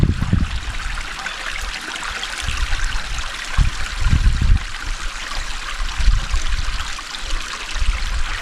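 A stream of water flows steadily and continuously outdoors on a still morning in Crows Nest National Park, Queensland, with a close, full trickling and burbling texture and no voices.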